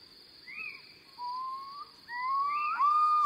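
Little owl calling at night, a series of plaintive, mewing notes that rise and repeat, growing louder and closer, over a steady high insect or cricket drone.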